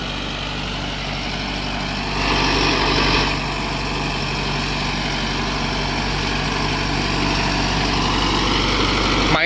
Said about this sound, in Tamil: அந்த டிராக்டரோட பர்ஃபார்மன்ஸ் தான் பார்க்குறீங்க.